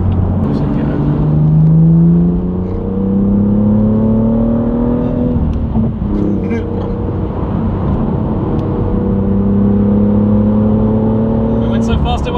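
A BMW M2's engine rises in pitch through the gears as the car accelerates, heard from inside with a steady road roar underneath and people talking over it.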